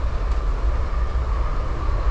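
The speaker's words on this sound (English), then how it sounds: "We need to get some oil on this train." A train rolls along steadily with a continuous low rumble and rattling rail noise, the running gear sounding in need of oil; close and constant throughout, with no talking.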